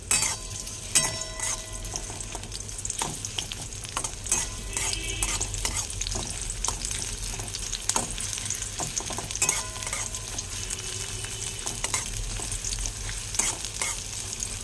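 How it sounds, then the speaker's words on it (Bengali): Onion and green chilli frying in a little hot oil in a kadai, a steady loud sizzle with occasional stirring scrapes, no voices. "এবারে তেলের মধ্যে পেঁয়াজ আর কাঁচা লঙ্কা ছেড়ে দেবো।"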